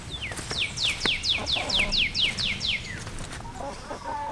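Chickens in a damp coop give a run of rising, repeated calls, about nine quick notes in steady rhythm, near and moderately loud over a rustling, noisy background.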